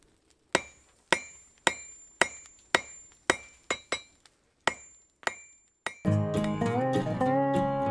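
A hammer strikes a forge weld of cable-Damascus around a tool steel core, a dozen sharp ringing metallic blows at an uneven pace, then a louder sustained rumble with ringing tones at the end.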